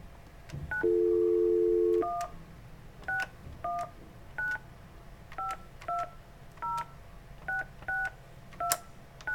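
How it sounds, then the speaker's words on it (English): Touch-tone keypad beeps from a phone as a cell number is dialed: one long held tone, then a steady series of short, clear dual-tone presses at an even pace, close and alone. "I'm going to dial my cell phone number."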